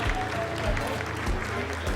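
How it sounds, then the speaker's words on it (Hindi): Applause fills the Chandrayaan-3 mission control room during the lunar landing's vertical descent phase. Steady clapping continues throughout the short moment, with voices talking over it. "आप तालियों के गड़गड़ाहट से सुन सकते हैं"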